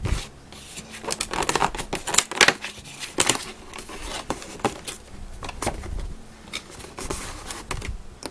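Cardboard door of a NYX makeup advent calendar being pried open and torn, giving close, irregular crackling and tapping bursts over several seconds, with no talk.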